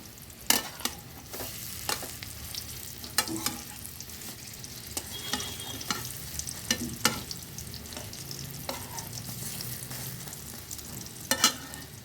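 Cabbage and egg pakoras deep-frying in oil give a steady, close sizzle broken by sharp crackles and pops, including bursts near the start and end, with no talking.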